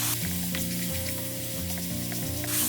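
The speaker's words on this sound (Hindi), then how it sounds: "इन सबको ऐड करने के बाद अच्छे से मिक्स कर लेंगे और इनकी भुनाई कर लेंगे" Spices for brinjal bharta roast and get stirred in a pan, a continuous sizzle with occasional soft stirring taps, all under prominent background music.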